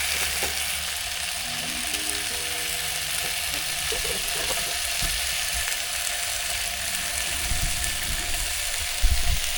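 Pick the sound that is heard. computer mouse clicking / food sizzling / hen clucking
food sizzling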